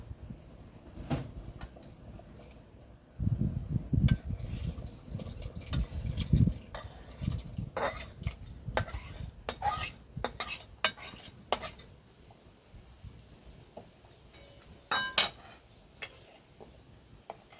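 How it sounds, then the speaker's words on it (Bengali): Meat is poured into a pot of khichuri and stirred, heard as a dull rushing pour followed by a run of sharp, close spoon clinks and scrapes against the pot, with no voices. "এখন আমি মাংসটাকে এখানে ঢেলে দেবো।"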